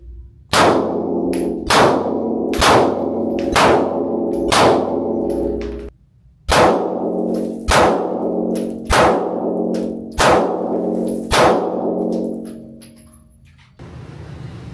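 CZ Shadow 2 Optic Ready pistol firing at steel targets, eight sharp shots in two quick strings of four, each followed by a bright metallic ring from the hit steel, a brief pause between strings.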